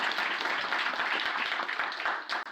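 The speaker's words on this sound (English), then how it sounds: "Give yourselves a round of applause." Audience applause from a crowd at a Yu-Gi-Oh voice actor Q&A, a dense patter of clapping that holds steady for a couple of seconds, with faint voices mixed in.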